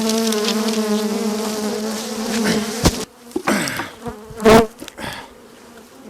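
Dense, loud buzzing of many honeybees around an open hive fills the first half, then thins out into scattered close buzzes of individual bees passing near.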